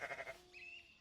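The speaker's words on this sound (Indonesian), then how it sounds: "Terdengar teriakan domba dari arah yang sangat jauh." A single sheep bleats, quiet and distant, in a short wavering call that fades into a thin high tone.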